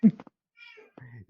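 A house cat meows close by, wanting to go out: a short loud cry followed by a thinner, drawn-out meow, with a brief quiet gap between them.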